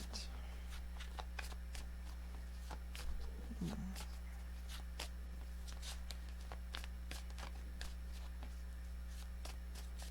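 Tarot cards are shuffled by hand, a steady run of soft, quick riffling flicks close by over a low constant hum, with a brief murmur of voice partway through.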